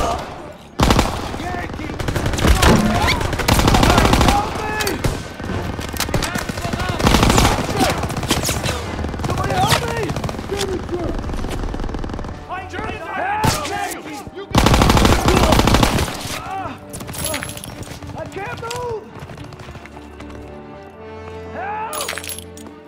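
Machine-gun fire in Call of Duty WW2 street combat: heavy, loud bursts of automatic fire come in several waves, separated by quieter stretches of distant shots and shouted voices.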